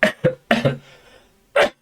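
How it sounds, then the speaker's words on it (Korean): Several sharp coughs close to the mic, three quick ones in a row, then one more after a short pause. "자꾸 기침이 나오네"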